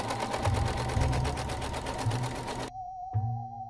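An embroidery machine sews a triple bean stitch on an in-the-hoop felt ghost, a fast steady mechanical chatter that stops abruptly, then a short final burst of stitching.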